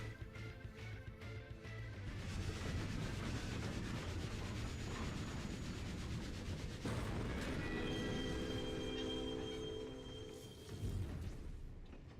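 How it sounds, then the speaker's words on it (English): A ghost train rolls through a video game with a continuous grinding, rubbing rumble and faint squealing wheels that stays loud and steady throughout. "Hell yeah, ghost train."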